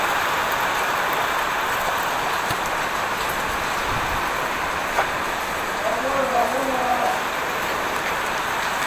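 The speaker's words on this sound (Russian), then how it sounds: "Вот дождик пошел." Steady rain hissing down outdoors in Vietnam, with a brief tonal chirp or squeak near the end and a faint voice in the background.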